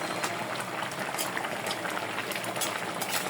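Tengra river fish and local radish curry bubbling uncovered in a pot, a steady soft simmering hiss with faint liquid pops throughout, no voices.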